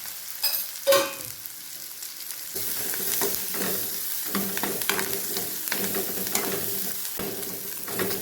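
Onions fry in oil in a pan with a steady, close sizzle, a clatter of stirring near the start and repeated utensil scrapes throughout.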